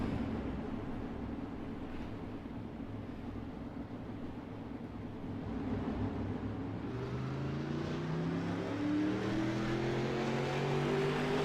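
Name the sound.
race cars accelerating onto the track for hot laps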